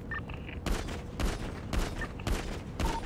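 Rapid gunfire aimed at a helicopter in a video game, four loud bursts of automatic shots in quick succession with brief gaps between them.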